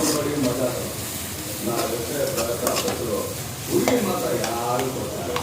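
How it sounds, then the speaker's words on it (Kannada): Okra frying with turmeric in a pan, stirred steadily with a spoon that scrapes and clinks against the metal over a constant close sizzle, while a voice talks over it. "ಚೆನ್ನಾಗಿ ಸ್ವಲ್ಪ ಫ್ರೈ ಮಾಡ್ಕೊಳ್ಳಿ"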